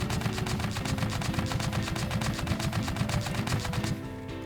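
A gatling gun mounted on a tank in Scrap Mechanic fires a steady rapid burst of gunshots for about four seconds, loud and evenly spaced, then stops abruptly.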